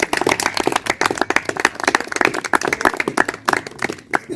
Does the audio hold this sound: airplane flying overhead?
no